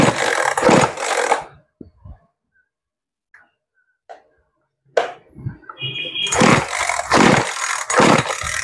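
A used Makita chainsaw engine buzzes loudly at close range in a bursty pattern, cutting out into near silence with a few small knocks before roaring back up with revving pulses.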